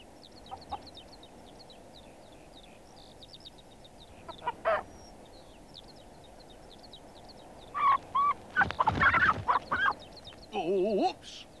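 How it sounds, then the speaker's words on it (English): A hen clucks in a cartoon farmyard scene, several short bursts of clucking and squawks near the end, loud and close after quieter background chatter. "a cheeky hen stealing his keys"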